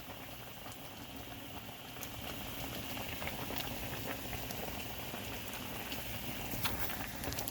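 A Cajun seafood boil of crawfish, sausage, potatoes and corn bubbles in a large pot, a dense, continuous rolling boil with spattering pops, steady and fairly close throughout.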